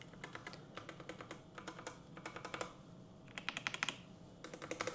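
Typing on a Redragon Vata Pro wireless gaming keyboard: steady bursts of crisp, close key clicks in quick irregular runs, with brief pauses between flurries and no voices.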